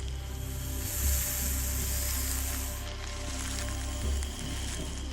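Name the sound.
viper rubbing its scales together, sawing sound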